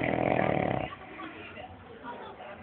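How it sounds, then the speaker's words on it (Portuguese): A sleeping person lets out one loud, rasping snore lasting under a second, then softer breathing and quiet room noise follow. "você ronca demais"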